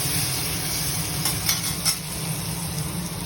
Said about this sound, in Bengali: প্রথমে আলুটা একটুখানি হালকা ভেজে বেগুনগুলো দিয়ে দেবো